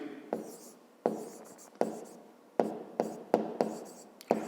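Pen writing on paper during a maths exercise, a series of about eight quick scratchy strokes in an uneven rhythm, close and clear, each stroke starting sharply and trailing off.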